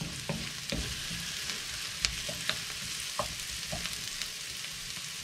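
Garlic sizzles steadily in a pan over moderate heat for a curry, with scattered scrapes and taps as it is stirred, close up and with no talking.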